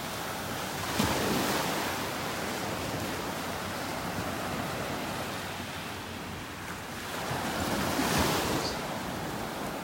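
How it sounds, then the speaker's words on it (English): Ocean waves wash onto a beach in North Naples, Florida, a broad steady surf roar with two swells breaking louder around the start and near the end, wind brushing the microphone. "Love the sound of those waves."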